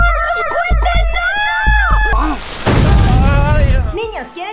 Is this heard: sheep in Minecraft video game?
no